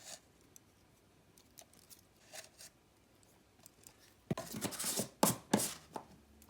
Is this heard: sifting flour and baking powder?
yes